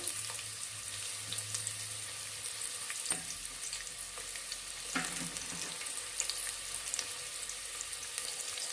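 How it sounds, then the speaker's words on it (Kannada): Cut onion frying in a pan for an avarekalu mutton saaru, giving a constant close hiss and sizzle with occasional soft clinks from stirring. "ಈರುಳ್ಳಿ ಸ್ವಲ್ಪ ಫ್ರೈ ಆಗಬೇಕು"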